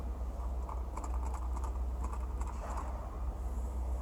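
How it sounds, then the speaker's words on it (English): Defective seat headrest in a Mercedes G63 AMG giving off a quick run of small rattling clicks and taps, close and fairly faint over a low steady hum, with no talking. "So this one sound is the defective headrest."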